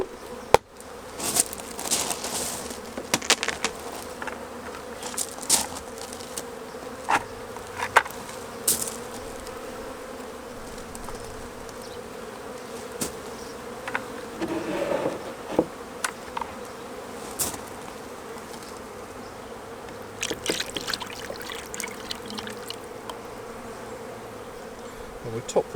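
A steady hum of honeybees buzzing close by at a hive, with occasional sharper clicks and taps over the drone, no voices.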